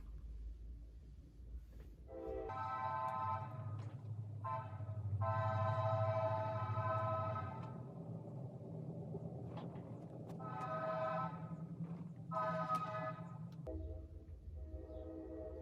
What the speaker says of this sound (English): Just gonna let the train pass.